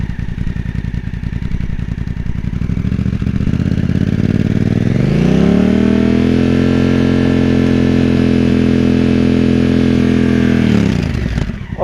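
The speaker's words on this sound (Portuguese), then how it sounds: "o escape tem um som muito ronco, muito gutural, forte" A motorcycle at a mandatory inspection idles with a deep, guttural exhaust rumble, then is revved up and held steady near 5000 rpm for several seconds, loud and close, before dropping off abruptly.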